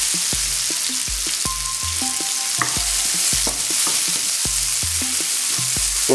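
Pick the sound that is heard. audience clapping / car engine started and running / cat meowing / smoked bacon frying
smoked bacon frying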